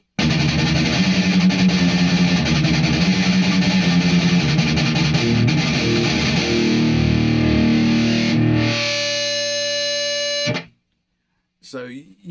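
An electric guitar with J55 pickups runs through a Jackson JE1200 midboost pedal with the boost turned high, giving a thick, loud, sustained distorted tone. The strummed chord rings for about ten seconds, then cuts off sharply, followed by a short burst of noise.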